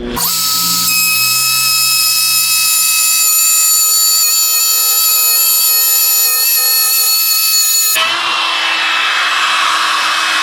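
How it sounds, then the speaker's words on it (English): A WEN budget trim router cuts a groove in wood with an edge guide, its high steady whine running loud and close for about eight seconds before the pitch drops as it winds down. "We're gonna do a groove using the edge guide."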